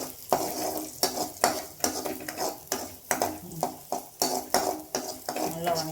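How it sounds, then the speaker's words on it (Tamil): Greens sautéing in a pan, stirred with repeated scraping strokes of a spatula against metal over a steady sizzle, close and fairly loud, in an even rhythm with no talk. "அது மாதிரி எல்லாமே வதக்கிறோம். நல்லா வதக்கிறோனுங்க."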